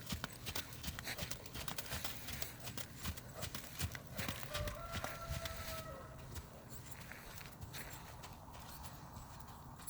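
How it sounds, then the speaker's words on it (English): A young horse named Bentley, recently started under saddle, moving from walk to trot under a rider, with hooves clip-clopping in a rapid, busy rhythm through a noisy outdoor background. "riding some transitions, walk to trot"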